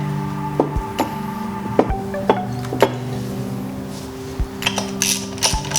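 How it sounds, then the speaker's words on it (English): BMW E30 engine fuel injector connector clips snapping into place: a series of sharp, close plastic clicks spaced irregularly over a steady low hum, with no talking. "You'll hear a nice little satisfying clip from each of them."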